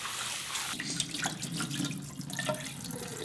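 Rice being rinsed in cold water in a kitchen bowl, with soft sloshing, swirling and trickling as a tap runs at a fairly low level, and no talking.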